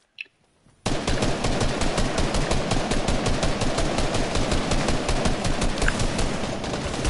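Video game gunfire starts abruptly after a brief quiet moment and becomes a loud, rapid, continuous stream of automatic shots with no pause.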